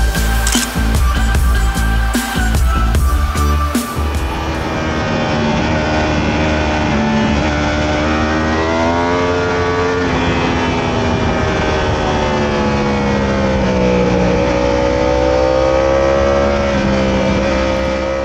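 Motorcycle riding out onto a race track, carrying an onboard camera: loud close engine blips and revving at first, then a sustained rising and shifting engine drone under wind roar, with no talk.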